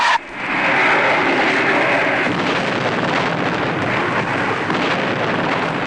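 Fireflash airliner jet engines roaring steadily and loudly at full power as the aircraft overshoots its landing, a continuous broadband blast with wind rush after a brief dip at the start.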